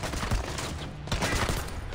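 Dense automatic gunfire in the stealth action game Splinter Cell Blacklist, a sustained loud barrage of overlapping shots with no pause.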